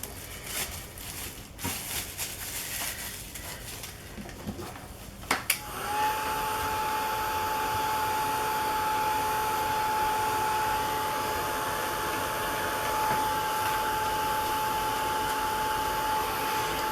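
A hair dryer dries paint beneath plastic wrap, switching on after a few seconds of faint handling noises and then roaring steadily and loudly with a constant tone until the end.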